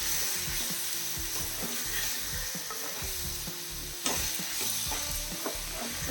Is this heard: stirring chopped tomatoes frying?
yes